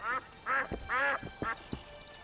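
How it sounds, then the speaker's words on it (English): Duck in The Witcher 2: Assassins of Kings giving a run of loud, nasal quacks, four clear calls spaced about half a second apart, close by with no talk over them. "Why is there a duck and a chicken?"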